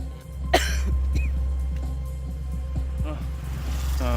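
A Thai man who makes chicken skewers coughs once sharply, fairly close, over a steady low rumble of street traffic, followed by faint scattered sounds and murmuring voices nearby.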